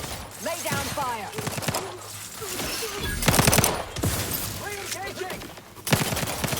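Gunfire crackles in bursts during combat in The Outer Worlds 2, with short rapid volleys and sharp impacts spaced between stretches of in-game talk and effects.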